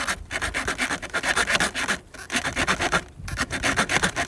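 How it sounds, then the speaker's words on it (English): Close, rhythmic back-and-forth strokes of a small multi-tool saw cutting through wood, a rasping scrape repeated quickly in two bursts with a brief pause between. "So what you're going to be hearing now is sawing."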